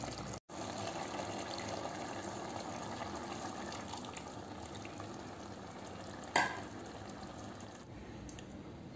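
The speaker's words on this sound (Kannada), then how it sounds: "ಈಗ ನಾನು ದಪ್ಪ ಕಾಯಿ ಹಾಲನ್ನು ಹಾಕ್ತೇನೆ" Thick coconut milk poured and stirred into a simmering pumpkin stew, a constant soft bubbling and sizzling with light stirring scrapes and a single sharp clink, heard up close without talk.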